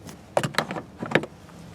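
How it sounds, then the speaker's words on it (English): Manual crank window in the rear door of a 2017 Chevy Sonic LS sedan, a few quick clicks and ratchety turns close by, brief and fairly soft. "You also have crank windows back here as well."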